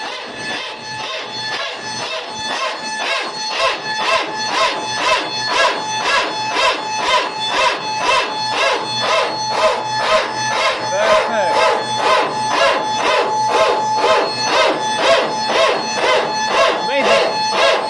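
An aircraft hydraulic power transfer unit runs loudly and steadily, producing a fast, regular, rasping bark that pulses several times a second without a break for the whole stretch.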